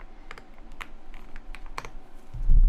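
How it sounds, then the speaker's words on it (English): Fast typing rattles across a mechanical keyboard, crisp crackling keycap clicks in quick uneven bursts close to the microphone, ending in a heavier low thump. "Listen to those keycaps crackle."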